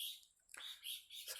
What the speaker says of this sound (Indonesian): Berhubung saya melihat burung,